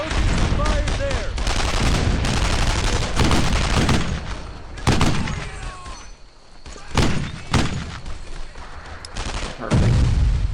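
Loud World War II gunfire in Brothers in Arms: Earned in Blood, with dense bursts of rifle and machine-gun shots and heavy thuds in irregular volleys, close and constant, while soldiers shout orders over it.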